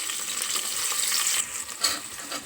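Chopped onions hiss and crackle as they hit hot oil with whole spices in a cooker, a loud bright sizzle that holds steady, then eases slightly with a brief surge near the end.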